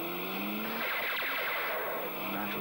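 A fast race car from an old battery advert roars past at speed, a loud continuous engine whine with a brief skid or tire squeal sweeping across.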